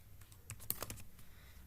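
Fast, irregular keystrokes on a computer keyboard while entering sales data in Tally Prime accounting software, a short burst of about ten quiet clicks clustered near the middle, with no talking.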